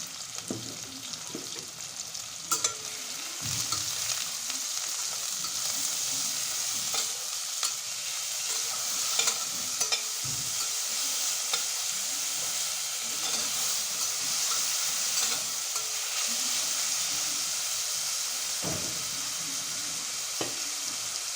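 Cumin seeds and salt sizzling in hot oil in a pressure cooker for a mutton curry, a loud steady hiss and crackle with occasional stirring clatters, no voice.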